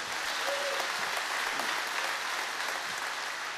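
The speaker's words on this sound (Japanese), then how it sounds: "今日は来てよかったなと思う方、どうぞ大きな拍手を。" Sustained applause from a concert audience, a dense, even wash of clapping at full strength throughout.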